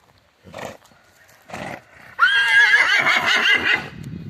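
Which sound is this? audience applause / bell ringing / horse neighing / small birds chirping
horse neighing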